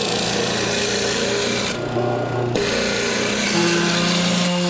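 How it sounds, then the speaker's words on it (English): A stationary disc sander works the outside of a wooden bowl with a continuous abrasive rasp and steady motor hum, briefly easing off midway before pressing in again, close and loud. "A stationary disc sander or belt sander provides one of the easiest ways to sand the outside of the bowl."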